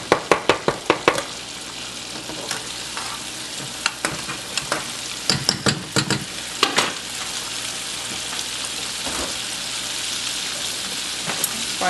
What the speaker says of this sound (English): shrimps only take about 2 to 3 minutes to deep fry